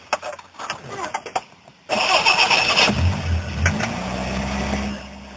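A Fiat 125p fitted with electronic ignition and a low-resistance coil cranks briefly, then catches and settles into a loud, close, steady idle. The starter whirs for about a second before the engine fires.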